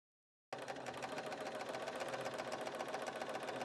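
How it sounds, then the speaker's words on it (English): A Bernina sewing machine with a bias binder attachment starts up after a brief silence and stitches steadily, a close, fast, even motor whir and needle rattle with no talking. "And then start stitching."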